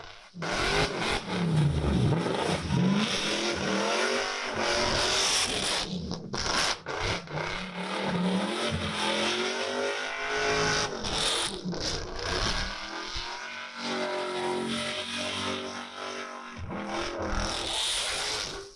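A car speeds hard on a thrill drive, its engine roaring steadily close by with rising and falling revs, scraping and rubbing mechanical noise over it, and no talk throughout.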